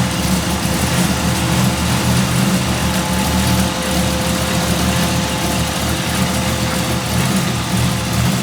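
A 1940 Ford's engine runs continuously at a steady idle on its first drive, a loud, close, even rumble with a faint whine on top and no talk.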